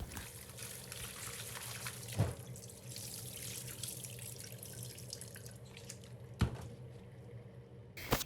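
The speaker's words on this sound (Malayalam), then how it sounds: "ആദ്യം ഒരു രണ്ട് മൂന്ന് പ്രാവശ്യം വെള്ളത്തിൽ കഴുകിയെടുക്കുക" Raw prawns being rinsed by hand in water in a kitchen sink, with steady running and sloshing water and a few sharper splashes and knocks, close and continuous, no talking.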